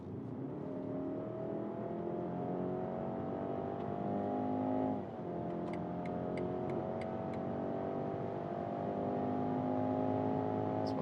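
Premium mid-size SUV, BMW X3 or Audi Q5, accelerating hard from inside the cabin; engine note rises steadily, dips briefly at a gear change, then climbs again, loud and continuous, with a few faint electronic chimes.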